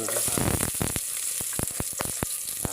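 Papaya sautéing in a hot pan, a steady loud sizzle with sharp clicks and scrapes of a utensil stirring through it, no voices.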